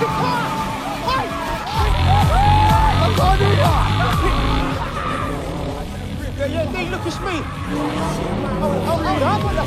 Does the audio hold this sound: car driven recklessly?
yes